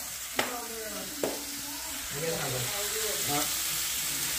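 A pork chop fries in hot oil in a pan with a steady, bright sizzle and two sharp utensil clanks near the start.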